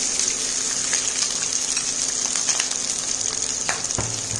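Rice tipped into hot spiced oil for saffron navratan pulao sizzles and crackles steadily, with a brief stir or clatter near the end, close and moderately loud with no talking.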